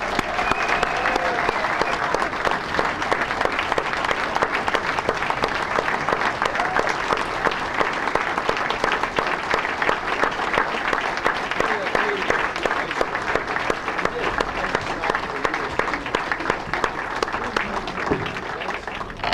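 An audience at the Pennsylvania Sports Hall of Fame banquet gives sustained, dense applause that stays loud and steady throughout, with a few cheers and voices mixed in.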